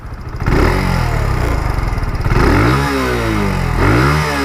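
A Kawasaki Z125 Pro motorcycle engine running close by, a loud low throbbing idle that swells into a couple of revs with rising and falling pitch.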